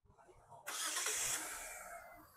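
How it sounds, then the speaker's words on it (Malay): A car engine freshly rebuilt in a garage, with a new radiator fan motor and power steering kit, cranks and catches after a short quiet pause. It then settles into a steady, fairly loud idle nearby. "Black Adam, kasih start."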